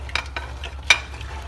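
Spices being stirred into chickpeas in a cooking pan, a few quick scraping strokes of a spoon over a low sizzle, close and fairly quiet.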